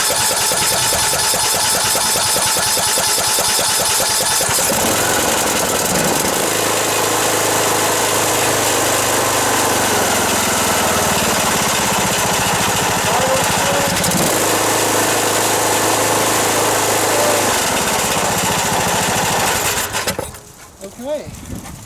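A Briggs & Stratton Intek small engine fitted with an aftermarket carburetor runs loudly and close for about twenty seconds, its pitch rising and falling with throttle changes before cutting off abruptly near the end.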